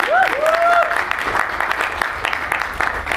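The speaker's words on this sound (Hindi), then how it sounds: "तब तक ताली मारो" An audience claps at a film trailer launch event, steady dense applause filling the moment, with a voice speaking over it.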